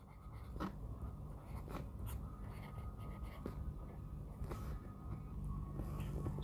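Chalk or marker scratches across a classroom board during a physics lesson, quiet and irregular, with soft room noise and faint murmurs in the background.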